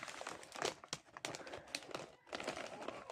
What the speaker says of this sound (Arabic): فتحنا كيس الكارليتو